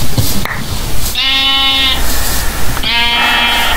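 Sheep bleat in Minecraft, two loud, nasal calls about a second long, separated by a short pause, standing out against a steady background hum.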